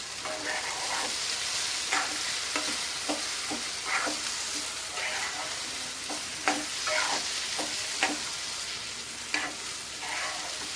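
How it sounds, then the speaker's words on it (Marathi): Mango semolina sheera being stirred in a pan, with a low steady sizzle and repeated soft scrapes of the spoon at an even, unhurried pace, no talking. "थोडा थोडा मिक्स करत हलवत राहायचं"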